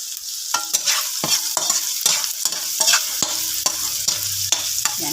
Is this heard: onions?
yes